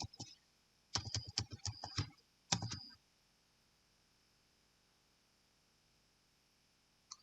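Keys clatter on a computer keyboard as details are typed into a finance app form, two short bursts of rapid close clicks separated by a pause, then near silence.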